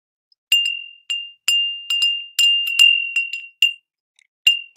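A small metal Santa bell rings in a series of bright, clear single strikes, about a dozen separate rings with quick decays and short silences between them, close and loud with no talk.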